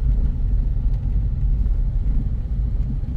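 Interior of a Volkswagen Polo Cross with 180,000 km on the clock, driving over a rough field-stone cobbled road: a steady, close, deep rumble and road roar fills the cabin without pause, and no one speaks.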